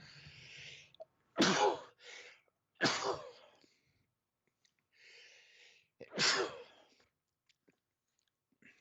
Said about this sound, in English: the sneeze has spoken